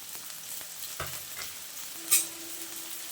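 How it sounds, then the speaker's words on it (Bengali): Chopped onion and green chili sizzle loudly as they hit hot oil, with a stirring knock partway through and a sharp metallic clink near the end. "তেলটা ভালোভাবে গরম হয়ে গেছে, এখন পেঁয়াজ কুচিগুলো দিয়ে দিচ্ছি।"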